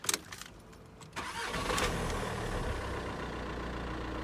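Mitsubishi Outlander engine cranking on its starter motor, a steady loud churning drone that begins after a second of faint clicks and quiet handling noise and runs unbroken to the end, no voices.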